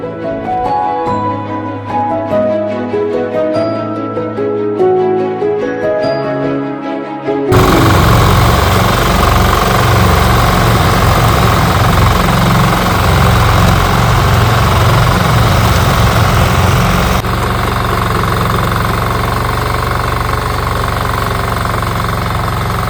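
A diesel-powered agricultural sprayer machine used on banana and lemon plantations runs loud and close, a rough, knocking engine drone that kicks in partway and holds steady after quieter mechanical clicking.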